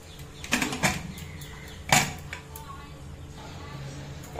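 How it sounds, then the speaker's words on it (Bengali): A pressure cooker lid is closed and locked in a home kitchen while cooking kabuli chana, giving a few sharp metallic clacks and clatters, one louder knock standing out, with kitchen noise in the background. "এখন প্রেসার কুকারে ঢাকনাটি আমি আটকে দিচ্ছি।"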